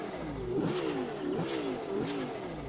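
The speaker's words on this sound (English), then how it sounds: "the exhaust notes and the backfires with anti-lag and such" An Audi R8 in the racing game Test Drive Unlimited Solar Crown revs hard three times in quick succession, each rising engine wail ending in a crackling exhaust pop, close and loud.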